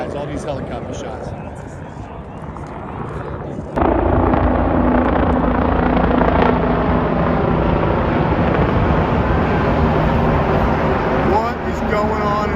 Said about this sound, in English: There's always helicopters flying overhead in DC.